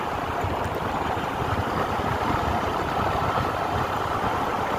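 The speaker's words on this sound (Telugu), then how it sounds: "బండి ఇంజన్ సౌండ్ అయితే వినండి ఒకసారి అయితే." Engine of a vehicle that came 230 km for a full engine rebuild, running at a steady idle, a continuous loud rumble heard close up with no talk.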